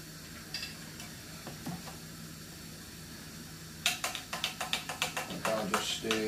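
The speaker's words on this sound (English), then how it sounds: "I'll just stir it" A spoon stirs food in a pan, starting as a quiet simmer, then turning into a run of about a dozen rhythmic scraping clinks near the mic, with no talking.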